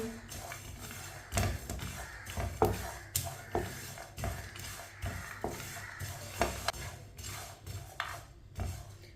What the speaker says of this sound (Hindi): 1-2 मिनट के लिए ना ऐसे ही चम्मच चला लेंगे